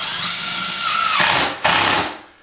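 A power drill whirs as it drives screws into metal drywall corner bead, one close, steady run stopping at about 1.2 seconds, then a second brief burst that tapers off, with no voices.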